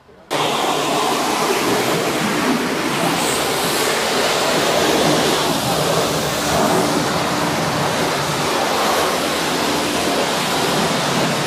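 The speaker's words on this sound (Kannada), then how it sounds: "ಕಡಿಮೆ ನೀರಿನಲ್ಲಿ ಕ್ಲೀನ್ ಮಾಡ್ಬಿಡ್ತು ಫುಲ್ ಪ್ರೆಷರ್ ವಾಷರ್" A high-pressure washer sprays water steadily during a car wash demonstration, a loud continuous hissing rush that starts abruptly and holds at an even level throughout without pause.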